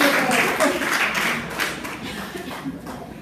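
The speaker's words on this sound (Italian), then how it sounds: "Grazie, un applauso a Gabriella." Audience at a magic show clapping briefly, a short burst of applause that fades within a few seconds while a voice talks over it.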